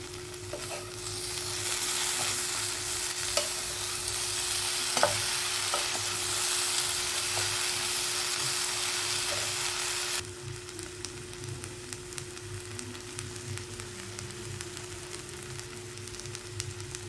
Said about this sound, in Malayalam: ഇനി നമുക്ക് ഇതിനകത്തോട്ട് നമ്മൾ ചെറുതായിട്ട് അരിഞ്ഞു വെച്ചിരിക്കുന്ന ഇത് വിട്ട് നല്ലോണം വഴറ്റണം